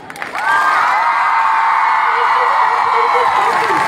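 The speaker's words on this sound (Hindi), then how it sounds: "कितना जोश, कितनी तालियां और कितने विसल्स आप दे सकते हो एक बार इनके लिए" A large crowd at a women's marathon event in Chomu bursts into loud applause, cheering and whistles after a brief lead-in, sustained steadily and close.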